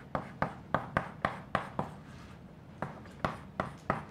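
Chalk tapping and scraping on a lecture board, roughly a dozen sharp strokes in an uneven rhythm, close and fairly clear with no talking.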